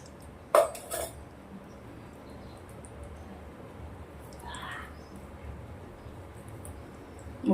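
A metal spoon clinks against a pot as desi ghee is scooped out. A sharp clatter sounds near the start, then a quiet stretch with a faint scrape and a last small knock.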